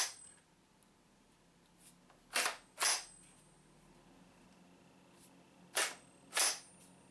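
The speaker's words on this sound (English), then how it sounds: "it allows you to charge the firearm from the right side" Charging handle of a High Tower Armory 90/22 firearm being worked, two pairs of sharp metallic clacks, each pair a quick pull and release, close and crisp against a quiet background.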